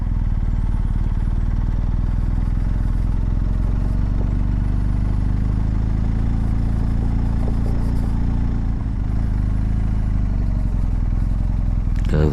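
A BMW R1250GS motorcycle is ridden along an old airfield, its engine a loud, steady, close rumble throughout with some mechanical clatter and no voices.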